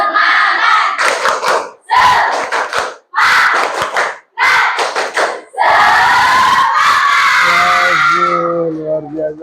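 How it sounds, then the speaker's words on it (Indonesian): A classroom of students performs a rhythmic spirit-clap cheer, loud bursts of clapping and shouting in counted groups, ending in a sustained collective yell close to the listener. "Sekarang tepuk semangat, tahu?"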